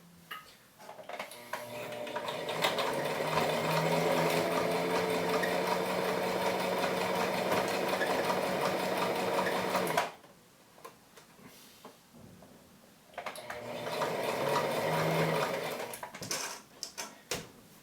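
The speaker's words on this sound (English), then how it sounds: "Make sure as you sew along the side that you don't inadvertently start sewing into the strap" A sewing machine stitches along the edge of a fabric face mask, a steady close mechanical whirring run for about ten seconds, a brief pause, then a second shorter run before it stops.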